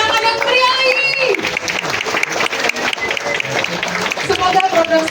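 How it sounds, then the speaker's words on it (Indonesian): An audience applauds at a university program launch event, loud, dense and sustained clapping with some crowd noise and voices mixed in. "Mari kita berikan tepuk tangan yang meriah lagi."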